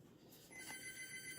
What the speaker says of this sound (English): I gotta go answer the phone